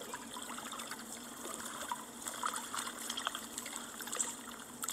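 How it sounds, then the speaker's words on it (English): Soft, steady trickling water runs as calm background ambience in the Zen Color coloring game, faint and continuous with small splashy flickers and no voices. "A little water in the background, doesn't it?"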